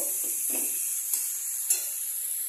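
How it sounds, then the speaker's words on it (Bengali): A spoon stirs a salted pickle mixture in a pan on a gas stove, giving a few soft scraping strokes over a steady faint sizzle and hiss, with no talking. "নুনটা দিয়ে একটু ভালো করে নাড়াচাড়া করে নেব।"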